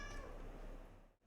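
A pet cat meows for attention close by, a few drawn-out calls in quick succession that fade away near the end, with no voices alongside.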